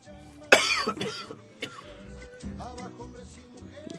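A sharp, loud cough from a person with a chesty cold and mucus bursts out, followed by a second rougher one, then some quieter throat noises and breathing.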